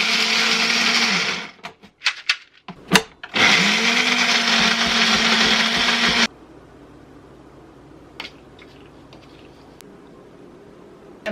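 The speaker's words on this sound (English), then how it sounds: "You basically want to keep blending this, stopping." A blender grinds tigernuts with tigernut oil into butter in loud, close bursts, stopping and restarting with clattering pauses. It then cuts off, leaving quiet room tone with a few faint knocks.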